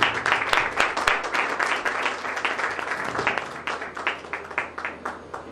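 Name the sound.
soft applause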